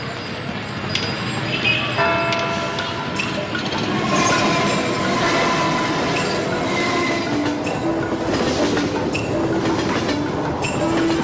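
A passenger train rolls along the rails on a long journey south toward the Qinling Mountains, with steady wheel rumble, rhythmic clicks and some metallic squeal, moderately loud and continuous, with voices faintly underneath.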